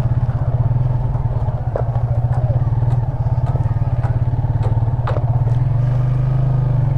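A motorcycle engine runs steadily and close throughout a ride in Barangay Labi, Bongabon, Nueva Ecija, with a rapid, even firing rhythm and occasional clatter over rough ground.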